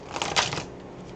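A brief, close rustle of tarot cards being shuffled, one quick flurry of papery card friction lasting about a second, with no voices.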